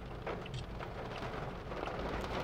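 Heavy rain falls during a thunderstorm in Saudi Arabia, a dense, continuous close hiss of downpour with a low background rumble.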